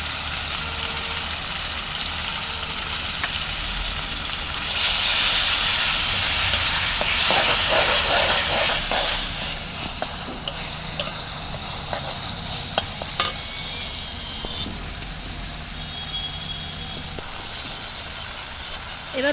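Spices with turmeric fry and sizzle in a pan while a utensil stirs them for an egg curry, a steady close hiss with a louder burst midway and occasional sharp scrapes.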